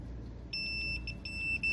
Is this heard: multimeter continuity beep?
yes